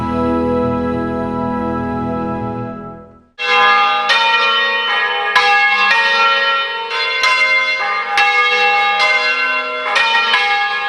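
Church bells rung by a village bell-ringing association in Gromo, Bergamo, Italy: a sustained low bell tone fades out, then a sequence of bright, loud bell strikes rings out in a steady, repeated pattern, close and resonant.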